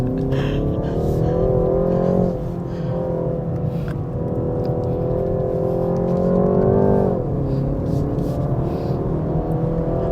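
A 2023 BMW 330i LCI drives fast through corners on a wet, slippery Genting mountain road, with a steady in-cabin engine drone whose revs dip and rise as the car drifts through a bend.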